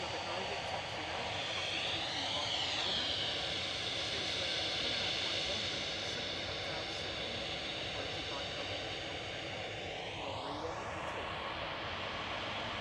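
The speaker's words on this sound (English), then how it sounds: "Bring Lima behind it, taxiing out." Aircraft taxiing at Manchester Airport, a steady distant engine drone with a whining tone that rises and falls, continuous under faint background noise.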